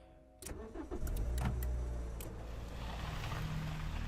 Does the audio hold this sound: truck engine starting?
yes